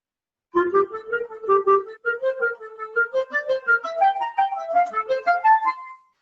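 Solo clarinet plays a lively melody with slightly longer, bouncy detached notes, a steady rhythmic line rising in pitch toward the end.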